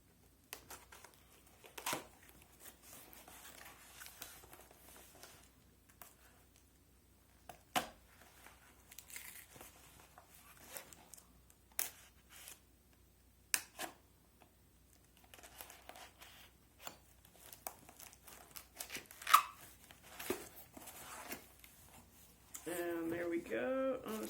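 A knife cuts open a package and the wrapping is unwrapped, with sparse close crinkles, tears and taps against a quiet background, and a voice speaking near the end.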